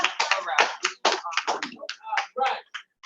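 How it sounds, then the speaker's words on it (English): Two sharp hand claps from people answering a call to clap during an online youth program session, with other taps and short speech-like bursts around them. "Anybody can hear my voice, please clap 2 times."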